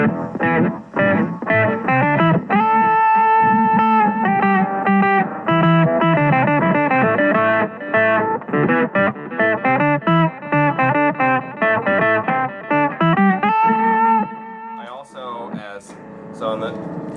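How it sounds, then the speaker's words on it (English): An electric guitar runs through a simple time-based delay synced to a tap tempo, playing a dense, sustained riff of loud, steady notes for most of the stretch before thinning to a few sparse plucks at the end. "Again, I've got simple delay that I can turn on. That's time based. That's going to match the tap."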